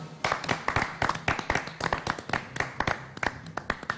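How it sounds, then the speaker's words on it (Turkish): Standing applause for a sports federation board: a small group claps in quick, irregular bursts that rise and fall, fairly close, with no talk over it. "ayakta alkışlayalım dedik"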